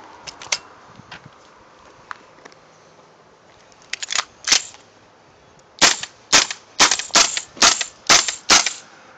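KWA LM4 PTR gas-blowback airsoft rifle firing: sharp, snappy cracks with mechanical clacks, first a few scattered shots, then a quick run of bursts, over faint outdoor road noise.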